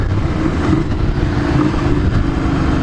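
A motorcycle engine idles at a meeting spot before a ride to Ganghwa Island, a loud, steady low rumble close by with slight wavering and no voices.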